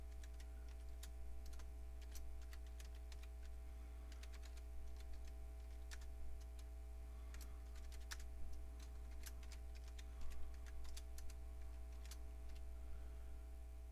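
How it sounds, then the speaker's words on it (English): Quick, light key clicks come from typing on a computer keyboard, in irregular bursts over a steady low electrical hum, faint and close. "I'm going to type Windows Fundamentals for Legacy PCs."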